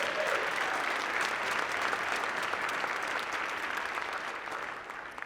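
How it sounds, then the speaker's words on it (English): An audience at a Manhattan borough address bursts into warm, sustained applause in a hall, dense steady clapping that slowly fades near the end. "Give her a big round of applause"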